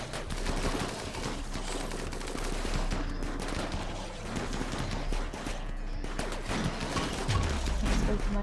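Dense gunfire during a chaotic RimWorld battle with friendly fire, rapid overlapping shots and bursts rattling continuously like a fusillade, with a low swooping tone near the end.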